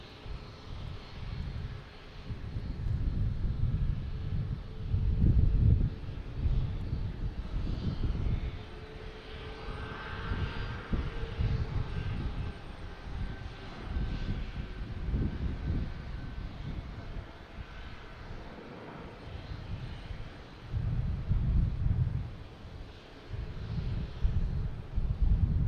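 An Etihad airliner departing Boston Logan Airport at night, a loud low jet engine roar swelling and surging in waves, heard from outdoors with some wind buffeting.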